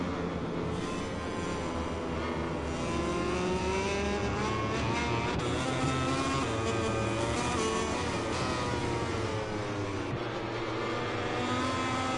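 A KTM RC16 racing motorcycle on a qualifying lap, its engine heard as a loud sustained high-revving drone with rising and falling pitch as it accelerates and shifts, steady throughout with no voices.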